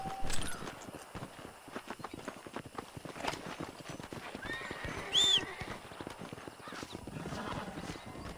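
A horse in Red Dead Redemption gallops with a steady clip-clop of hooves throughout and lets out one loud, close neigh midway, with no talking over it.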